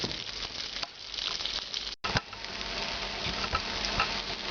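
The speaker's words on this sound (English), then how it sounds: "We're going to toast those for a few minutes. Just actually about 1 minute in a hot pan" Steady soft sizzling and crackling of ingredients toasting in a hot pan for mole sauce, with a continuous patter and one brief dropout partway through.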